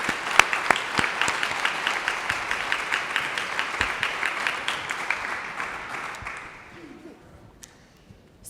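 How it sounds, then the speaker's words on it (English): An audience at a South Carolina STEM Education Day event at the Capitol claps steadily for several seconds, a dense close applause that thins and fades out toward the end. "please give a round of applause for our South Carolina Coalition for Mathematics and Science"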